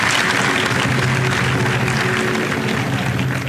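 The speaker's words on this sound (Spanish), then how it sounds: "Saludamos cariñosamente y con un fuerte aplauso a Ana, de la ciudad de Bogotá." A studio audience on a Catholic faith broadcast applauds in a continuous, dense patter of clapping that stays loud and steady throughout, easing slightly at the end.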